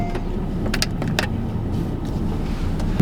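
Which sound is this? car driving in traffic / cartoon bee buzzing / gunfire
car driving in traffic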